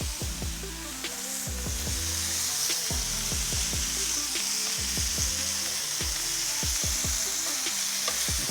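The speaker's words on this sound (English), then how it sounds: "That's what we're going for right there, that high heat sear." Cobia fillets sear over high heat in a pan with a loud, continuous sizzle, punctuated by repeated sharp spatter pops and crackles.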